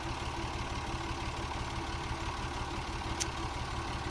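A tractor engine idles steadily, a continuous low mechanical rumble at an even, moderate level with no speech and one brief faint click near the end.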